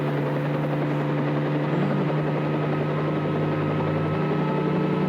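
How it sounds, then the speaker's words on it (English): A small helicopter opening a music video whirs with a steady, loud rotor hum and a constant low engine tone that runs unbroken throughout. "starts with this little helicopter thing"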